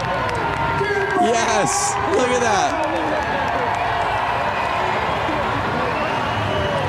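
A packed crowd cheers at a Harley-Davidson flat track motorcycle race, a steady close roar of voices that holds throughout while someone talks over it.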